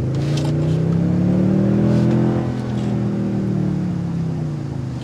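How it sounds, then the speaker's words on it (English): The twin-turbo engine of a 2023 Toyota Tundra 1794 Edition pickup revs up through its range, its exhaust note rising to a sustained roar and then easing off slightly, with no talking. "it really does have a good exhaust note, which is hard to find sometimes for a twin turbo variant"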